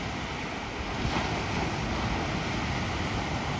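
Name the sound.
huge ocean waves breaking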